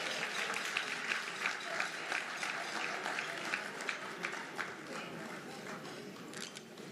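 An audience applauding at a senior officials' performance contract signing ceremony, a steady patter of claps at moderate distance with faint voices mixed in.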